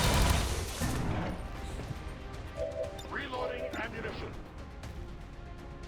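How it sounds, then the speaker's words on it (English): Gunfire from the XCOM 2 video game comes as repeated bursts of shots and impacts in a continuous, busy mix of game sounds, with a voice talking over it throughout. "Shoot him, reload, shoot him again."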